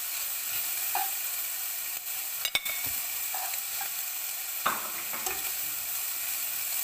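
Garlic and onion frying in a pan, a constant close hiss of sizzling with occasional light clinks and scrapes as the utensil moves through the pan.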